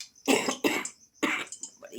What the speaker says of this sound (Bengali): একটু কাশি হচ্ছে